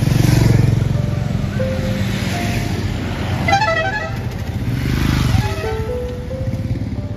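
Motorcycles in a bike rally of about seventy riders near Siliguri, with horns honking in short repeated toots over a steady engine rumble and traffic noise throughout.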